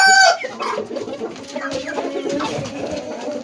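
A chicken clucks close by, opening with a loud, sharp squawk followed by a run of busy, uneven clucking over a faint farmyard background.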